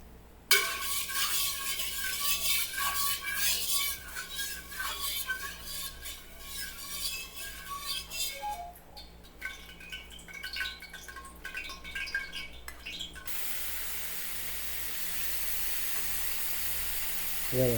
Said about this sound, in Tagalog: Ito po yung atin ibabrown dito sa kawali para manuot yung lasa.